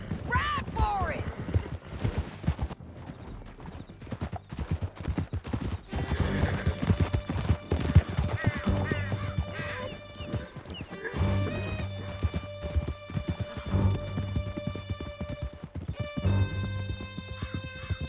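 Horses gallop through a canyon in the video game Red Dead Redemption 2, with rapid clip-clop hoofbeats, whinnies and neighs, bursts of gunfire and crashes, under intermittent game dialogue and music.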